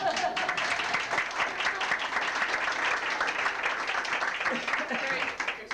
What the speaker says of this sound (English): you can stop that applauding.